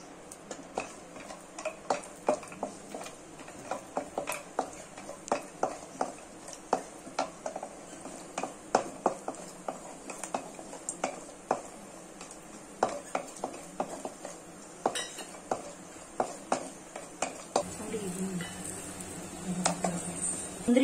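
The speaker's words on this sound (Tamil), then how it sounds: "நெய் சேர்த்துட்டு அந்த நெய்ல வந்து கொஞ்சம் முந்திரி போட்டு நம்ம வறுத்து எடுத்துக்கலாம்" Cashews are roasted in ghee in a pan, a spoon clicking and scraping against metal in an irregular rhythm of small ticks for about twenty seconds, with a soft sizzling hiss underneath that grows toward the end.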